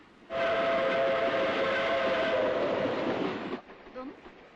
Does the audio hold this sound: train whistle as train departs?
yes